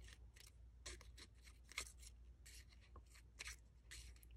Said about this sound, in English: Cut slightly in between each petal.